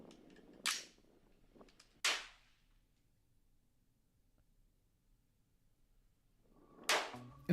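Rifle shots at an outdoor shooting range, three sharp cracks: two close together early, then a long pause of quiet before a third, with faint low background rumble between.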